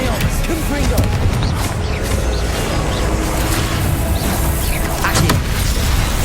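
In the Hogwarts Legacy video game, a Confringo blasting spell explodes amid dense, chaotic combat noise, with booming crashes and a sharp burst standing out over a busy, loud mix.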